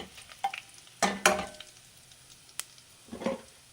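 A spoonful of cumin seeds and two bay leaves hit hot oil in a pan, giving short crackling sizzle bursts and scraping stirs, close and fairly quiet, with gaps of near silence between them.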